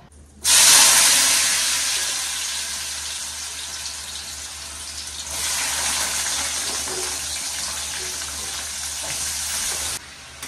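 Potato curry cooking in a pan: a loud, sudden hissing sizzle that starts abruptly, eases slightly, swells again midway and then stops. It sounds close and steady, like steam and spattering.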